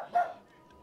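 A single short dog bark from the video game Assassin's Creed Odyssey, quick and fairly close, followed by a quiet fading tail.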